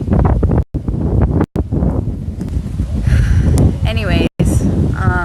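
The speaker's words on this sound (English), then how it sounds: "It's a little windy outside today." Wind gusting outdoors, buffeting a nearby microphone with a steady low rumble through most of the stretch, broken by a couple of brief dropouts, while a voice is faintly present.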